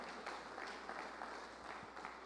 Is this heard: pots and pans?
no